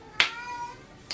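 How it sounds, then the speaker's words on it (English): A cat at a closed door lets out a short meow, close and clear, followed by a second brief sound near the end, with no talking. "And that's my cat at the door,"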